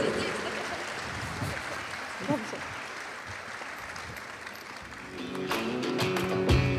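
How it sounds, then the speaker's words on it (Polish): Audience applause at a workplace tribute, heard as a soft, continuous wash of clapping at a distance that lasts throughout, with some voices mixing in toward the end. "Raz jeszcze brawa, dziękujemy."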